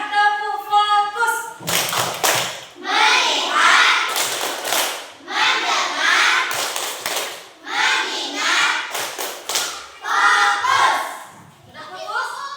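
A classroom of children performs the 'tepuk fokus' clapping chant, sharp rhythmic hand claps in quick bursts mixed with the kids' chanting voices, loud and close throughout.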